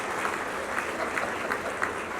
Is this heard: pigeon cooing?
no